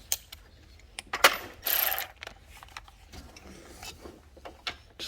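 A hand tool works loose a 10 mm bolt on an AC line of a 2005 Toyota 4Runner 4.7L, giving sparse metallic clicks and ratcheting taps with a short scraping burst, close and isolated.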